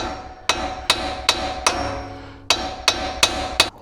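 Hammer taps on a 2018 Chevrolet's lower ball joint, seven sharp metallic strikes in two bursts of four and three with a pause between, close and loud with a ringing tail over a steady low hum.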